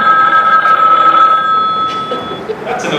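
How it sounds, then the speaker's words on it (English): A telephone rings loudly with a steady, sustained bell tone for about two seconds, while faint talk and background noise continue underneath and after. "Or that telephone ringing."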